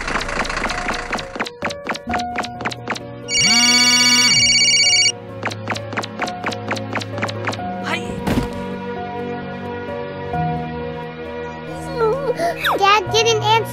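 A telephone rings for about two seconds in Roblox Brookhaven, a steady electronic tone rising above game music and voices before speech takes over again.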